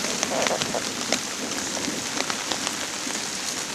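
Steady rain from a storm patters on a hammock tarp, dense and continuous with scattered closer drops standing out, no voices.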